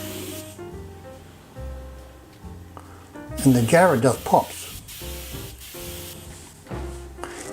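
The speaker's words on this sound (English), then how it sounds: "just spraying it up now" An aerosol spray coats a jewelry box of Huon pine and jarrah in finish, with close hissing bursts in the middle under a voice talking throughout.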